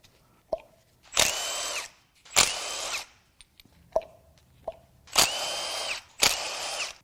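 A cordless power tool on a Subaru FA20DIT turbo engine whirs in four short, loud bursts of about a second each while spark plugs are backed out, with sharp clicks and clatter between the runs.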